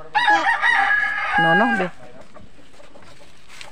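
A pet rooster crows loudly and close by, a long drawn cry with a falling finish, as chickens are fed; a voice speaks briefly, and a quiet yard follows.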